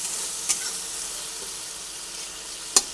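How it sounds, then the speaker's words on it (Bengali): Small splash of water poured into a sizzling Bengali bata fish curry with cauliflower and green chilli, a steady soft frying hiss with two brief sharp crackles, close and alone. "একদম অল্প পরিমাণে জল দিচ্ছি"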